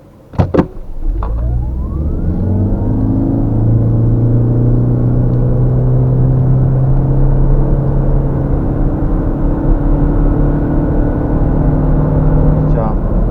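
Suzuki Swace 1.8 Hybrid Elegance car setting off: a few sharp clicks and chimes, then a smooth, steady electric whine and low drive hum that rise and hold, heard from inside the cabin.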